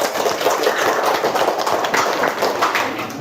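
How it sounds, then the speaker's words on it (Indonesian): Dense applause from a classroom audience right after a group presentation finishes, a steady wash of many hands clapping close by with no voices over it. "Tepuk tangan."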